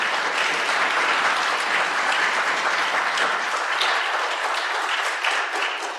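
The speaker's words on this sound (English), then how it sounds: "I think we can give a round of applause" Steady, full applause from a large audience at a church presentation, sustained evenly throughout with no talking on top.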